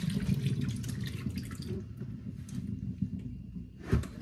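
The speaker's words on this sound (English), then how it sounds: "We're about to dump this water out." Water poured out of a cooking pan into a kitchen sink while rinsing meat for a Thanksgiving meal, a continuous quiet splashing stream ending with a brief louder gush.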